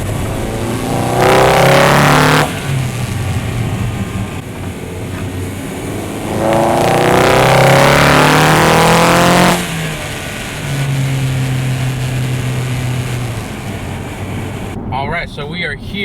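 A 2020 Toyota Corolla hatchback with a 2.0-liter engine, CVT and a 2J-Racing cold air intake revs up loudly in repeated surges, the engine note rising and falling between steadier drones, heard from close range.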